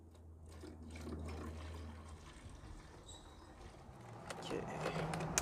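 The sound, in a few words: filling foam cannon bottle with water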